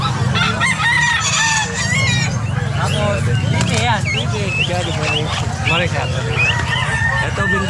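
Roosters crow repeatedly at a busy poultry and animal market, loud and close, with hens clucking and other fowl calling in the background while people talk nearby.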